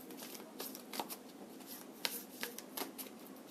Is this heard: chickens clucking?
no